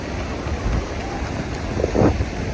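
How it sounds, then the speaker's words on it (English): Wind buffets the microphone at a beach by salt water, a steady broadband rush with low gusty thumps that swell briefly near the end. "Windy."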